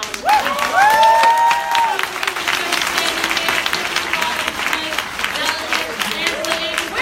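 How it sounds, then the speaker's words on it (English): Loud, dense applause from a crowd with some cheering, sustained throughout, with voices briefly audible over the clapping. "y'all better give this panel a round of applause."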